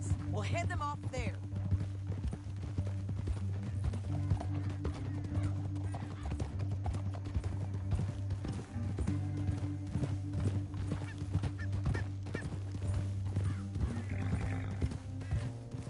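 Horse hooves clip-clop steadily through a Red Dead Redemption 2 game scene, a continuous rhythmic patter under a low music bed with occasional whinnies and voices speaking.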